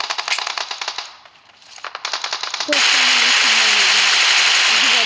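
Gunfire in the PUBG Mobile battle royale game: a rapid burst of automatic shots at the start, a brief lull, more bursts, then loud steady game noise with a warbling tone; people talk over it.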